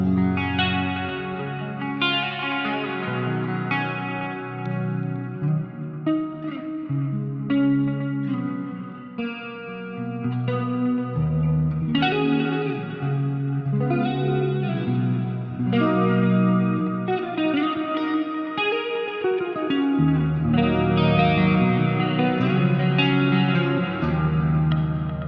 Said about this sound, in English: that one right there is the new jazz chorus in there, so the JC120